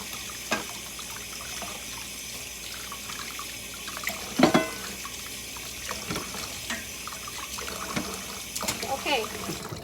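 Hot tap water runs and splashes over a pork bone being cleaned in a kitchen sink for Lao num mee ka tee soup, a steady rinse with brief clatters and a louder burst midway, a voice occasionally heard.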